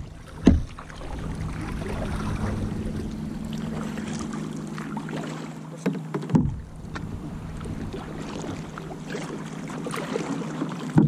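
Canoe or kayak paddling through very shallow water, with a steady wash of water and boat noise, a few knocks and splashes, and some wind rumble throughout.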